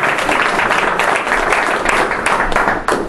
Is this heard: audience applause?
yes